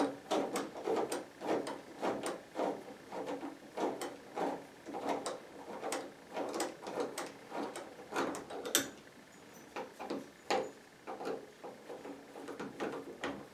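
Screws driven into a door lock during installation, heard as a steady run of quiet, rhythmic ratcheting clicks and creaks from a hand screwdriver, close and faint with no talking.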